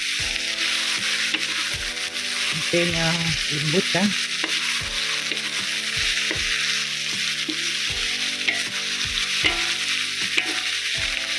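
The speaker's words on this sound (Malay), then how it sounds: "Sahabat, inilah makna jauh-jauhnya di dalam kuali." Steady, crackling sizzle of onion and garlic frying in hot oil in a wok, with clinks of a utensil stirring and a brief spoken remark.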